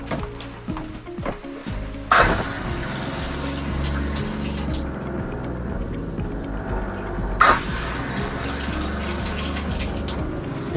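Water gushing from a travel trailer sink faucet while the RV water line is flushed during dewinterizing, a steady splashing stream with pump hum, interrupted by two sharp bursts as the flow sputters.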